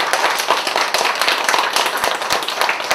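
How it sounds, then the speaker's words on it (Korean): A church congregation claps together after a sermon, dense loud applause with crisp individual claps packed closely and sustained evenly across the whole stretch. "우리 박수 한번 치며 하나님께 영광 드립시다."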